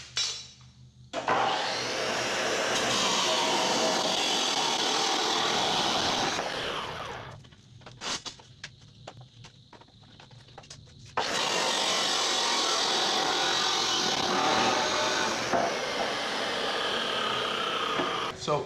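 Steel vertical uprights for a homemade Cummins engine stand are cut with a power saw, in two long sustained bursts of loud, gritty cutting separated by a quieter gap of clanks and handling noise.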